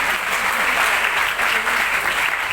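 Steady, dense applause from an audience at a school prize distribution ceremony for World Mother Language Day, filling the hall without a break.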